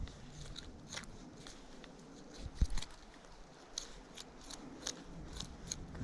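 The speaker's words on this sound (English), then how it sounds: "Kind of scraping it off with my knife." A knife blade scrapes blood off deboned, bloody animal meat: repeated short, faint scratchy strokes in an irregular rhythm, close up, with no talking.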